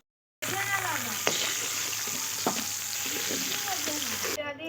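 Spice paste with ground onion sizzles steadily in hot oil while a spatula stirs and scrapes through it, a close, continuous frying crackle with occasional sharper clicks, a faint voice underneath.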